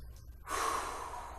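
A single deep breath drawn in sharply through the nose, loud and close, during a Foundation Training windmill exercise with decompression breathing, following a brief quiet moment.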